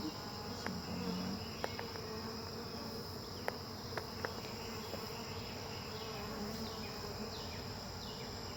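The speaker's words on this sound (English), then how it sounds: "And the bees are quite calm. They're just curious. They're just flying around." A continuous buzzing of many bees flying nearby, faint and steady, with a few sharp clicks scattered through.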